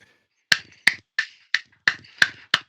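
Seven sharp, separate claps spaced roughly every third of a second, close and loud with no talk, from a live podcast set where a game of Cult of the Lamb is in play.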